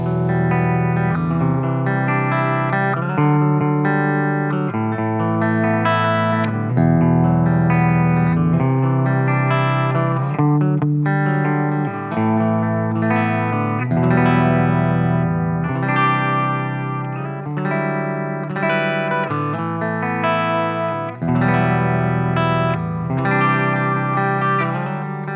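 A Schroeder Marksman '87 electric guitar played clean through its bridge pickup, a run of chords and picked notes with a slight chorus-like shimmer, steady and close with no voices.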